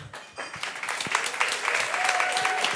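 An audience claps for a candidate speaking at a 2023 New South Wales state election event in Manly, a short burst of applause that builds and holds under a few scattered voices.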